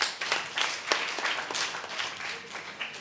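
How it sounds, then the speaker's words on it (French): Clapping for a girl at a children's event, a scattered round of applause from a small group in a room, steady for about three seconds with a few sharper individual claps standing out. "On applaudit pour elle."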